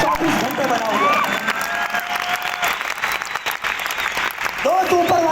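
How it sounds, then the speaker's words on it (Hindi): A large audience at an event in Delhi's Indira Gandhi indoor stadium applauds loudly and continuously, with scattered cheers and whoops rising above the clapping. "तो मैं चाहता हूँ एक बार ऊपर वाले के लिए अब तक की सबसे जोरदार ताली"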